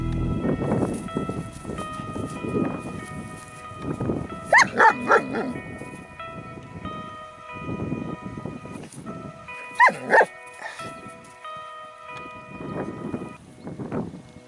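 A dog barks outdoors on a metal-detecting outing, giving short clusters of sharp barks twice, apart from other bursts of background noise and rustling.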